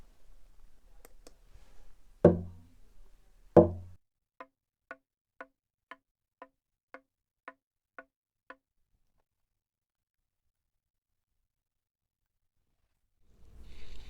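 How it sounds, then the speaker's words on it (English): A rubber mallet strikes the body of a handmade acoustic guitar twice with firm, resonant thumps, followed by a run of light, evenly spaced ticks, then silence. "I just tap with this rubber mallet."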